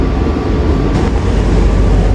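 A Kamandaka economy New Generation passenger train runs along the line with a loud, steady rolling rumble and broadband rattle heard from inside the carriage, continuous and without voices.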